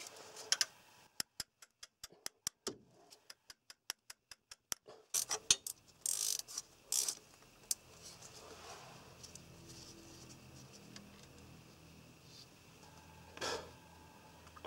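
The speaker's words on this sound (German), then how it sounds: "Ich hole jetzt erstmal die hinteren Schrauben hier raus." Ratchet removing the rear screws from the F17 gearbox of an Opel Tigra B, a string of sharp evenly spaced ratchet clicks followed by clinks of tools and metal parts being handled nearby.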